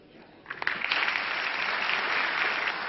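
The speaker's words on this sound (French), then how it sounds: "La gauche applaudit par la droite applaudit par la gauche, ce n'est pas banal." Applause in the French National Assembly from deputies on both left and right, a sustained wash of clapping from a large chamber heard at moderate distance, starting with a few scattered claps then swelling and holding.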